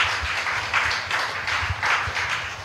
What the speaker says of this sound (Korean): 우리 다음 세대 자녀들 한번 칭찬하는 마음으로 박수 한번 쳤으면 좋겠습니다